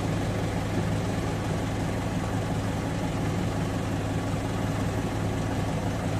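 Nissan car engine idling steadily in a workshop during brake fluid bleeding, a constant low rumble with a continuous hum, close and unchanging throughout, with no talk.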